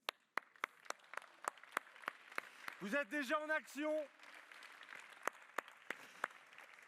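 Audience applause at a charity testimony evening, sharp scattered claps ringing through a hall, briefly interrupted by a short spoken line partway through before the clapping resumes.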